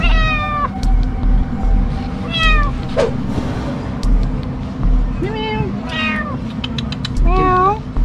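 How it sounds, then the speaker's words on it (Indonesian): A cat stuck in a tight gap meows repeatedly while firefighters in Malaysia handle and pull it free, loud close cries recurring every second or so under steady background traffic hum and nearby voices. "Meow."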